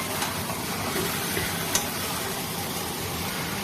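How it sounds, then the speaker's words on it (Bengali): Meat being sautéed in a pan in a home kitchen, a steady broadband sizzle with faint stirring scrapes throughout, fairly close and even, with no voices. "এখন মাংস ভালো করে কষাচ্ছি।"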